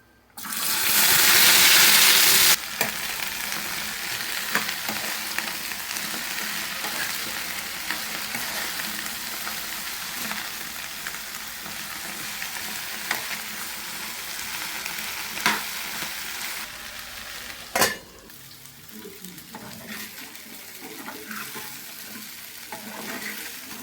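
Okra (bhindi) fries in a pan for a home breakfast, a steady close sizzle with a loud burst at the start and occasional stirring clicks, no talking.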